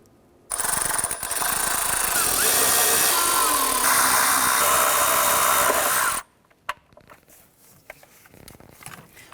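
A power tool drives timing cover bolts on a 2009-2015 Honda Pilot during a timing kit and water pump job, a loud steady whirring run of about six seconds, then stopping, followed by faint clicks and handling noises.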